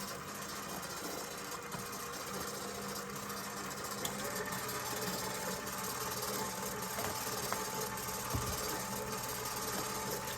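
An electric mixer whirs steadily through banana muffin batter, a continuous motor drone with a constant vibrating hum held throughout, fairly loud and close with no talk.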